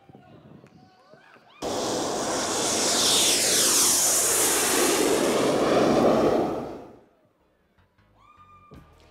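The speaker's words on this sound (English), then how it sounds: "Ladies and gentlemen, please fasten your seatbelts. We are ready for takeoff." Airplane taking off played as a sound effect at a convention session, a loud jet roar that starts abruptly, swells with a sweeping pitch shift over several seconds, then cuts away to quiet.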